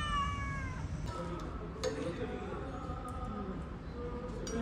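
A cat meowing nearby, several drawn-out tonal cries in a row over steady outdoor background noise, with some faint talk mixed in.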